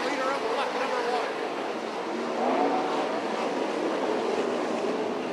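Dirt-track race cars roar through turns three and four on an oval at Beaver Dam, a steady loud blur of engine noise with a crowd wash, no pauses across the whole stretch.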